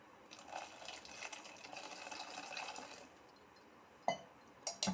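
Plain water pours into a vessel of freshly churned butter, a soft, continuous splashing gush that fills most of the stretch. A few clinks and small splashes follow near the end, all fairly faint and close by.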